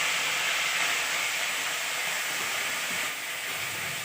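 Whole cumin and five-spice seeds sizzle steadily in hot oil for Bengali tempering, a loud, even hiss filling the whole stretch with no pauses and no voices.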